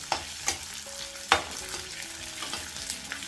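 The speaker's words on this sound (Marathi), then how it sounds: "आता थोडा थोडा करून तळून घेणार आहे" Edible gum (dink) deep-frying in hot oil a little at a time for methi-dry-fruit laddoos, a soft steady sizzle broken by a few sharp crackling pops, with no talking.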